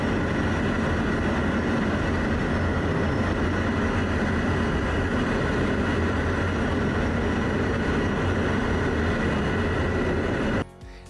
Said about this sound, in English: These fighter jets from the Belgian Air Force flying closely together.